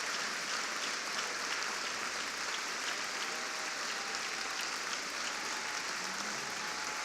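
An audience applauds at the National Urban League's 2017 State of the Urban League address, a dense, steady wash of clapping from a large crowd that holds at an even level throughout, with no voices over it.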